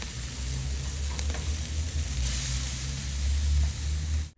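Chicken sizzling on a garden barbecue grill as pieces are flipped, a steady close hiss of fat and heat with faint scraping, loud and continuous throughout.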